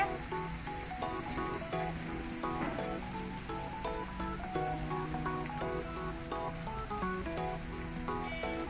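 Sliced radish sizzles in a frying pan with a steady, soft crackle that runs throughout beneath louder background music.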